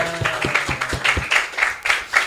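Audience clapping at a scout talk in a school setting, scattered claps in uneven bursts across a couple of seconds, with a low hum and faint voices underneath.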